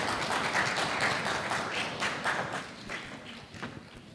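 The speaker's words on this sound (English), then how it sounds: "Please give once more applause for this team" An award ceremony audience claps for a team leaving the stage, a moderate, steady patter of applause that thins and softens toward the end.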